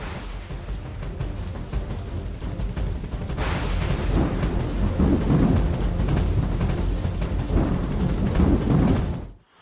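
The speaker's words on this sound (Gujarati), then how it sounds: "અમદાવાદમાં છેલ્લા 2 કલાકથી જે અનરાધાર વરસાદ છે તે વરસી રહ્યો છે" Torrential downpour hammering down in Ahmedabad, a dense steady roar of rain with deep rolling thunder building from about three seconds in, loud and continuous until it cuts off abruptly at the end.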